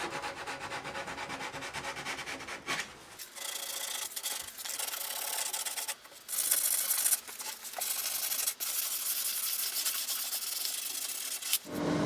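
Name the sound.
sanding a guitar soundboard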